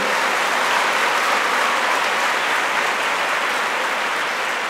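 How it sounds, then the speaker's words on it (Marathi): Audience at a celebration gathering claps loudly and continuously, a dense, even wall of applause from a large crowd that holds steady throughout without pause. "मग टाळ्या जोरदार वाजल्या पाहिजे."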